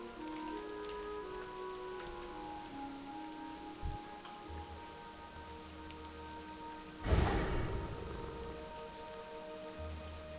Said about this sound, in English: This is quite a heavy rain that's coming down.